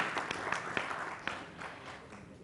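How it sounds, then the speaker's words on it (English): Audience at the International Galvanizing Conference 2016 gives a sustained burst of applause, with dense, steady clapping that fades slightly toward the end. "Huge applause. Once again, a huge applause."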